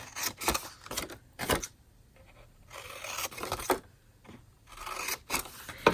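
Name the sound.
scissors cutting paper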